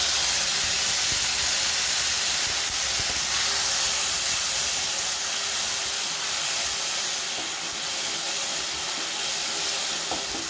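Mashed tomatoes sautéing with garlic in a pan for Kerala-style rasam, giving a steady, close, broadband sizzle and hiss that holds evenly throughout with no talking.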